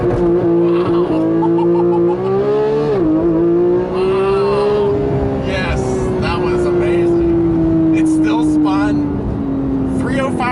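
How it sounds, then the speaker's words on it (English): Porsche 911 GT3 from 2014 on Cup 2 rear tires launching hard from a standstill: a loud, rising flat-six engine howl that climbs steadily through the gears, with faint tire squeal underneath, heard from inside the cabin. "Try the launch control here."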